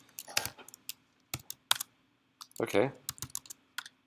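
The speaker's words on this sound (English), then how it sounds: "I was typing" Scattered bursts of computer keyboard typing, sharp clicks in short irregular clusters, close and moderately loud, with a person briefly speaking between keystrokes.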